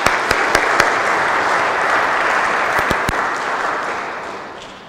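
Church congregation clapping in thanks for the kitchen team and quiz organiser, a dense, even round of applause with a few sharp claps at the start, fading out toward the end.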